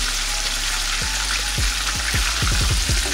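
Chicken breast fries in hot oil with a steady, loud sizzling hiss, punctuated by quick low bubbling pops that grow more frequent toward the end.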